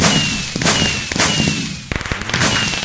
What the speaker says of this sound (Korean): 크리퍼가 이렇게 폭죽 예쁘게 터져도 됩니까?